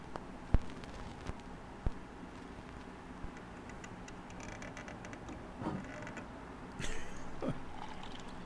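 A record player in the police-management game This is the Police 2 gives off odd mechanical sounds: sharp isolated ticks and clicks over a low hum, then a brief scratchy, whirring burst near the end. Faint and sparse, with no talk.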